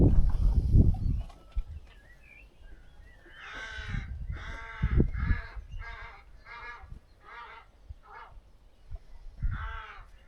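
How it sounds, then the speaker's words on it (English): Crows nesting in high trees in a garden caw repeatedly at moderate distance, a series of harsh rhythmic calls spread across several seconds, after a low rustle at the start. "lots of crows nesting in the high trees just at the end there, and they're very vocal."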